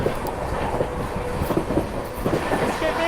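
Aboard the Amrit Bharat Express nearing Fatehpur, a steady rumble of rolling coaches with faint rhythmic wheel clicks, loud and continuous throughout, no voices.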